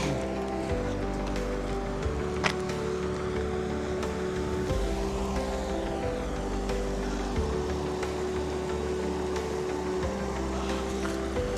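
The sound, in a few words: water flowing at Fogg Dam, Darwin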